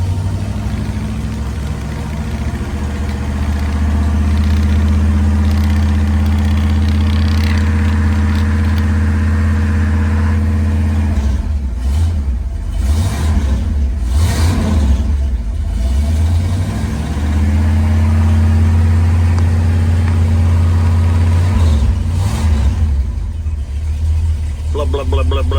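A 1968 Camaro's 427 truck V8 idles with a steady, heavy low rumble, then takes a few sharp revs around the middle and again near the end before settling back to idle. It stays loud and close throughout.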